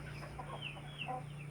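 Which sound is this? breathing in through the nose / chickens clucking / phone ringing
chickens clucking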